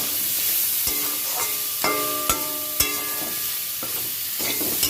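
Bitter gourd and pumpkin pieces sizzle in a hot pan, with a steady fry hiss broken by several sharp metallic clinks and scrapes as a spatula stirs them.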